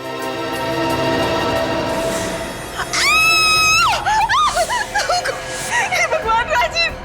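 A person screams loudly in a long, wavering cry, followed by broken shrieks and agitated voices in an indoor dramatic scene.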